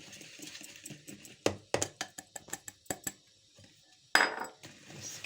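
Vanilla cake batter stirred by hand in a bowl, the spoon clacking against the sides in a quick uneven series of knocks, then a louder scrape and a short run of softer stirring.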